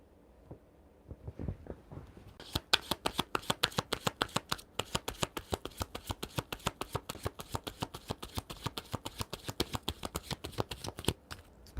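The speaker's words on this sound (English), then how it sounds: "you just sit there shuffling and shuffling and shuffling" Tarot cards shuffled continuously by hand, a dense, steady riffle of crisp rapid clicks that starts after a brief pause and runs uninterrupted, close and clear with no voices.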